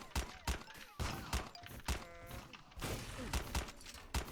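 Dragon Rifle gunfire in Graal Online Era, a rapid series of punchy thumping shots in uneven bursts, with tonal game effects chirping in between.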